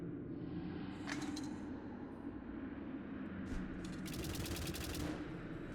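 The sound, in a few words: Gladys turret firing in video game White Knuckle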